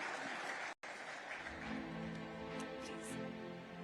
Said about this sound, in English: Please, a huge round of applause, ladies and gentlemen.